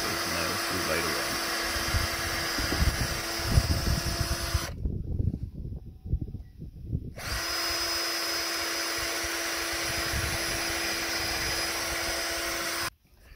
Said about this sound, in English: let's start by piloting holes